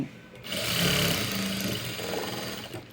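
Sewing machine stitching a closed seam on a blouse's invisible shape belt, a close, steady motor whir and rapid needle hum running continuously after a brief quiet start.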